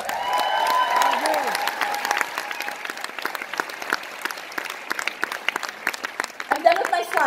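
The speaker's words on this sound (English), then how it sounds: "I want you to cheer for yourself a little bit." An audience applauds and cheers for itself at a leadership talk, steady clapping with a crowd roar that fades into scattered claps, a voice speaking over it near the start.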